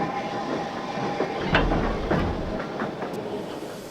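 A steam train rumbles along the rails with soft rhythmic clacks and a hissing, breathy background, a few sharper knocks standing out.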